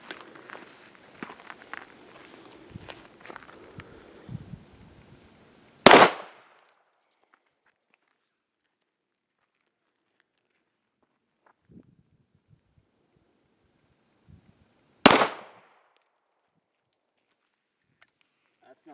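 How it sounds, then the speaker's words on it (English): Two sharp, loud pistol shots from an HK VP9 and a Sig P320 fired one round at a time, spaced about nine seconds apart outdoors, with handling noises and faint shuffling before and between them. "We're going to go 1 round out of the VP9, set it down, pick up the Sig 320, 1 round out of the Sig 320, and back and forth"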